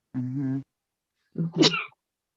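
A single sharp sneeze during a podcast recording comes right after a brief murmured voice, loud and close to the microphone.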